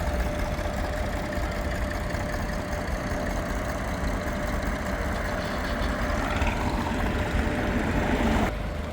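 Tractors loaded with wheat idle in a long queue at a grain weighbridge in Rahovec in July, making a continuous, steady engine drone that fills the whole stretch without pause.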